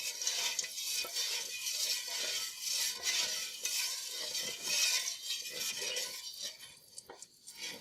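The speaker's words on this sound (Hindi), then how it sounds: "नमक को हम ऑयल में मिक्स होने देंगे" Salt being stirred into oil in a karahi for charsi chicken, a spoon scraping and clinking against the pan in an irregular rhythm over a soft, continuous sizzle, close and moderately loud, with no talking.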